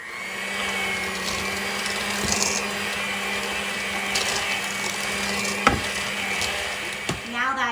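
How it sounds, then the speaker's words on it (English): An electric mixer whirs steadily while mixing coffee cake batter, a continuous motor drone with occasional clicks and knocks from the bowl, recorded nearby. "now we're going to mix all of these ingredients together for about 4"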